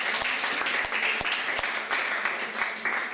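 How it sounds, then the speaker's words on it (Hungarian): An audience at a Hungarian physics teaching event applauds in a dense, steady patter of clapping that holds at an even level throughout. "ő is megérdemel egy tapsokat"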